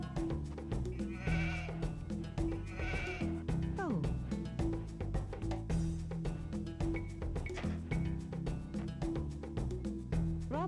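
Sheep bleat repeatedly in Age of Empires 2: The Age of Kings on PlayStation 2, several short wavering calls spread across a steady in-game music bed.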